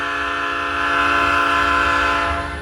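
A freight train's horn blows one long, loud, sustained blast close by, swelling slightly and then holding steady over the low rumble of the passing train.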